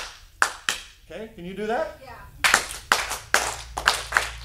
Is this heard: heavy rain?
no